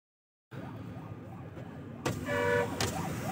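A wailing siren sweeps up and down steadily, joined partway through by a louder, higher electronic tone, over constant traffic rumble.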